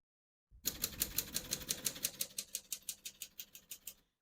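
Typing on a 1937 Corona Silent portable typewriter: a run of about fifteen crisp, evenly spaced key strikes, soft and close, each a short clack with no voices.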